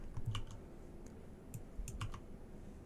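Keys tapped on a computer keyboard, a handful of quiet, close clicks in an uneven rhythm over a soft room hum, with no talk.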